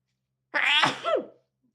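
One loud, nearby sneeze with a quick inhale-burst shape, then silence.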